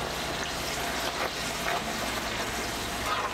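Fijian puri dough fries in hot grapeseed oil with a steady, close, crackling sizzle that bubbles evenly throughout, with no talking.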